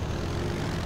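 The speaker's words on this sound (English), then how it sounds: "Hello, airplane." An airplane passes overhead as a brief, steady, droning engine hum in the Red Faction Guerrilla video game, moderately quiet and unbroken.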